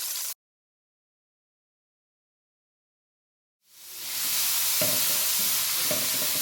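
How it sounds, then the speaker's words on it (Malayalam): Chopped vegetables tipped into hot sesame oil for restaurant-style chicken fried rice, stir-frying on a high flame: after a brief silent gap, a loud, steady broadband sizzle rises and holds, with two short scraping stirs near the end. "ഇനി നമുക്ക് ഈ അരിഞ്ഞു വെച്ചിരിക്കുന്ന വെജിറ്റബിൾസ് ഉണ്ടല്ലോ, അത് ഇതിലേക്ക് ഇട്ട് കൊടുക്കാം"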